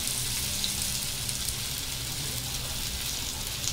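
Oil sizzling in a pan around a sprouted green moong thalipeeth, a dense steady crackling hiss close up and continuous, with no talking.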